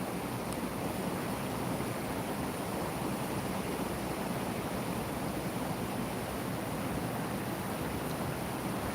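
Steady, dense rushing of water flowing strongly after heavy rain, a continuous even roar of moderate loudness with no voices.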